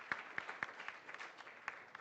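Scattered applause at a Nairobi arbitration week event for a university delegation, a few sharp distinct claps standing out over a thinner patter, moderately distant and fading in and out.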